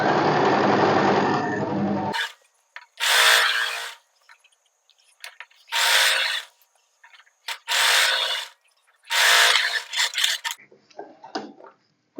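A sewing machine stitches a kurti hem in short bursts of rapid whirring, four or five separate runs with quiet pauses between them, following an opening stretch of louder steady noise.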